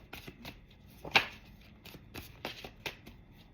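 Tarot cards are shuffled by hand in quick soft riffles and snaps, close and fairly quiet, with one sharper slap among the brief bursts and no talking.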